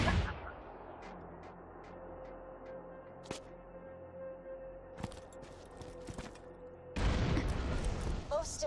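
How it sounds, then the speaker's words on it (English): A cannon fires in the video game Borderlands 2, giving a few sharp booms spaced seconds apart over a quiet game background, with a louder, sustained blast near the end. "Fire the cannon again."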